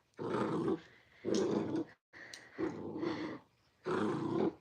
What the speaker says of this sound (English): Yeah, it's the dog.